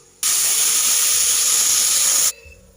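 Lentil dumplings (bori) fry in hot oil with a little salt and turmeric, giving a loud, steady hiss that starts abruptly and cuts off after about two seconds.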